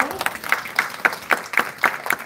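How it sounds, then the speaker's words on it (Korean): An audience in a church claps for children in slow, rhythmic unison beats, about eight evenly spaced claps at moderate loudness with faint murmuring underneath. "친구들에게 축복의 박수로"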